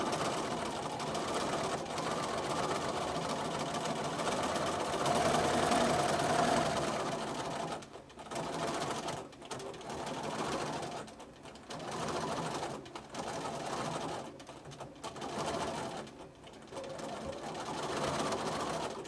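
A sewing machine stitches free-motion quilted spirals in steady bursts, running continuously at first and then in shorter runs separated by brief pauses.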